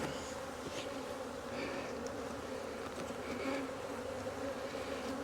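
Honey bees buzz loudly and continuously inside an opened single brood chamber hive during a spring inspection, a dense close drone with no talk.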